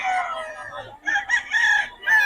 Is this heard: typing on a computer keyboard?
no